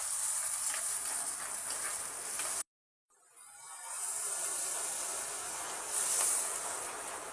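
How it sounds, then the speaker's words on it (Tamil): Small and big onions sautéing in a pan for a village-style chicken chukka, a steady loud hiss broken by a brief silent gap before the sizzling resumes. "இதனுடன் சின்ன வெங்காயம், பெரிய வெங்காயம் சேர்த்து நல்லா பொன்னிறமாக வதக்கிக்கொள்வோம்."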